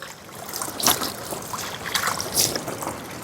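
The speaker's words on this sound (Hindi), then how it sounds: "इनको चर्री बोलते हैं, जो घोड़े खच्चरों के लिए पानी पीने की व्यवस्था है, और हम भी पी सकते हैं, पानी पाइप से आ रहा है।" Water running from a pipe into a trough for horses and mules on the Hemkund Sahib pilgrimage route, a steady splashing trickle with a few louder gurgling surges.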